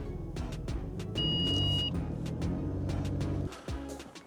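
A Mercedes SL R230 engine rumbles nearby as the car moves slowly up a steep driveway, a low steady drone with a brief high electronic beep partway through.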